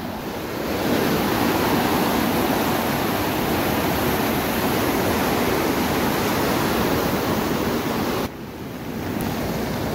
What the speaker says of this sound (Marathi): मंडळी पाणी पहा किती आहे नदीला।